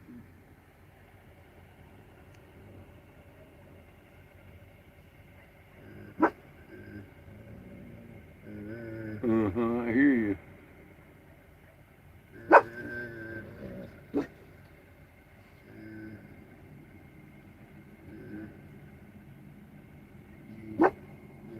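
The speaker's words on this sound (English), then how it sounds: "she's gonna bark at puppies" A dog barks at puppies in a few sharp, isolated bursts spread across a quiet stretch, with a longer run of yapping in the middle and a brief spoken voice nearby.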